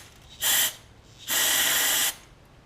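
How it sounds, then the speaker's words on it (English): Carb cleaner sprays onto a 149cc Kohler auto choke carburetor from a new can in two close, loud hissing bursts, a short one and then a longer sustained one, with quiet between. "So, carb spray. Just start with a new can."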